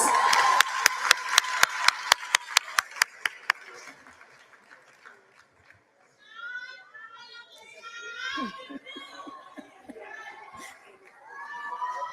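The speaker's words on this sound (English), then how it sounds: "Another round of applause" A seated audience at a matric examination results ceremony gives a short burst of crisp, rhythmic, evenly spaced claps that fade quickly, followed by children's chatter and voices filling the room.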